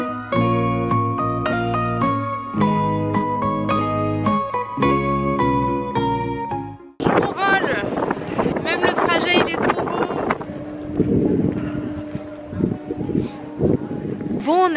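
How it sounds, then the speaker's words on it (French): Cold wind gusts across the microphone on Murano island in Venice, a loud, blustery rumble that follows a passage of music, with a person speaking beneath it. "Il y a du vent et le vent est glacial."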